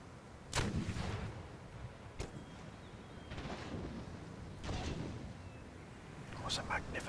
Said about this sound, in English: All guns fire!